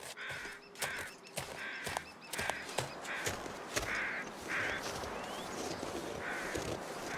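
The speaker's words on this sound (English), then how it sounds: "those are carrion crows over there." Carrion crows caw repeatedly in the survival video game The Long Dark, several harsh calls spaced through a steady windy outdoor ambience, moderately distant and with no talking.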